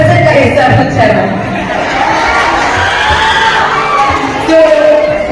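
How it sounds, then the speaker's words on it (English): Audience at a school science club rocket-launching event cheering and shouting, a dense sustained crowd roar with whoops and children's voices, loud and continuous throughout with chatter mixed in. "Okay, Vikram, please give him a big round of applause"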